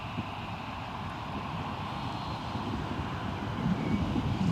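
Airliner taxiing at Newcastle airport, a steady low engine rumble with wind buffeting the microphone, holding level and swelling slightly louder toward the end, with no voices.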